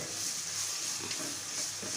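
Onions and keema mince being stirred in a hot pan over a high flame, a steady soft sizzle with faint scraping strokes, close and even throughout, no voices.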